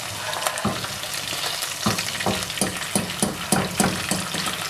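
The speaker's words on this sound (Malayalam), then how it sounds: "എന്നിട്ട് അടുത്ത ബാച്ച് നമുക്ക് ഇതിലോട്ട് ഇട്ട് കൊടുക്കാം." Chicken pieces for butter chicken fry in hot oil with a loud, steady crackling sizzle, punctuated by a series of rhythmic stirring scrapes close by.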